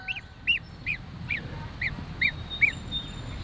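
A goose honking outdoors among chickens, a regular series of about eight clear, nasal honks evenly spaced over a soft background hum.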